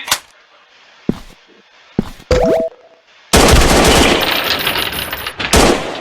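Gunfire in an online survival video game: a few isolated sharp shots with short gaps, then a dense, loud burst of rapid automatic fire that keeps going for several seconds, with a short pause near the end.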